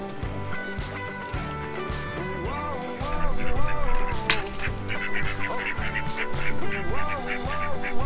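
Ducks quack in scattered bursts over a steady, busy background of other noise, fairly close and moderately loud.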